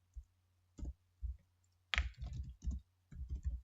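Computer keys are tapped in short, scattered clusters of soft clicks during coding, fairly quiet and close, with a low steady hum underneath and pauses between bursts.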